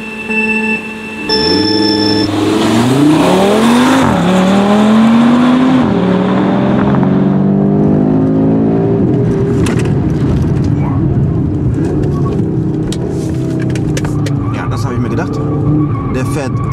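An Audi RS3 8Y launches onto a race track at full throttle, its engine note climbing through rapid upshifts, loud and close, then settling into a rough, sustained drone with tire noise and clicks.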